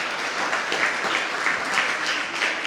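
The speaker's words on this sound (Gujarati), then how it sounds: "નદીમ પાછો એકવાર હજુ ક્લેપિંગ કે તાળી માટેનો હકદાર છે" A small audience at a children's book-talk event claps for a young presenter. The applause is continuous and moderately loud, with a few louder bursts throughout.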